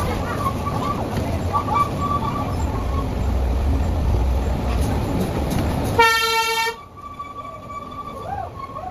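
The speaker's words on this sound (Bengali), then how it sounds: "এই তো সামনে ট্রেনটা ছেড়ে দিবে, ট্রেনের মামাটা।" An amusement park ride train at Fantasy Kingdom rumbles steadily close by. A single loud horn toot near the end is followed by quieter running, with faint voices in the background.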